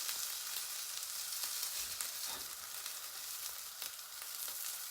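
Homemade hash browns, grated potato rosti, frying in a pan, giving a steady bright sizzle and crackle close up with no talk.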